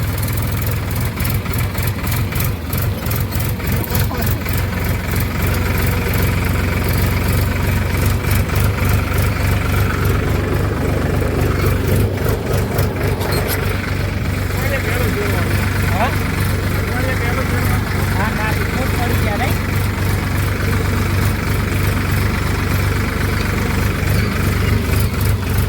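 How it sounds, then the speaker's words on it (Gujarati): A tractor engine idles in a farm field with a loud, steady low throb and vibration that runs unbroken throughout, as a person talks over it. "તો મિત્રો અત્યારે આપણે આવી ગયા ખેતરમાં ટ્રેક્ટર લઈને."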